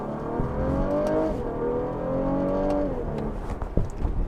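A sports car engine revs hard through quick paddle upshifts, each rising whine cutting off and climbing again, loud and close from inside the cabin.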